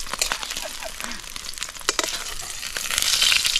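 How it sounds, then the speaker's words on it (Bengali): An egg omelette frying in oil on an outdoor cooking setup, a crackling sizzle with scattered pops and scraping sounds, the frying growing louder toward the end. "দেখি ও কয় সেকেন্ড লাগছে সেই ডিম ভাজতে"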